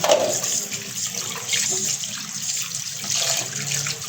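Running tap water pours over cut rupchanda (pomfret) fish being washed for frying, a steady close splashing stream with brief clinks and shifts in the flow, and no speech.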